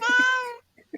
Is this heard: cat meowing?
yes